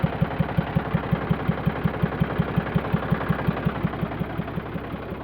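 A John Deere tractor's engine idles close by, thumping in a steady, even rhythm that stays loud and continuous throughout.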